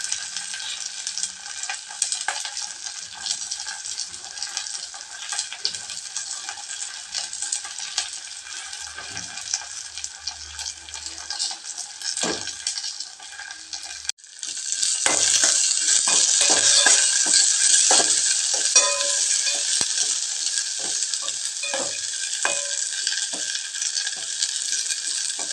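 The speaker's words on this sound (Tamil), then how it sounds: "இது நல்லா செவக்க வதங்கட்டுங்க. பூண்டு நல்லா செவக்கட்டும்." Garlic sautéing in hot oil for kalavaikkai sambar, a steady loud sizzle that jumps louder halfway through, with occasional clinks and scrapes of stirring and no talking.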